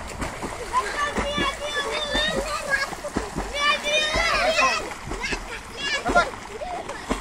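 People swim and splash in a round village pond on a cool morning, with repeated close splashes and churning water throughout as voices, including children's, talk and call over the noise.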